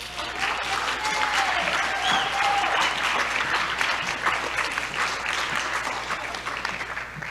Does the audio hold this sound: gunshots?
no